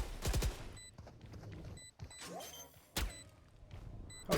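Gunfire from the video game Valorant rings out in sharp bursts, several close, loud shots and rapid volleys separated by brief quiet gaps.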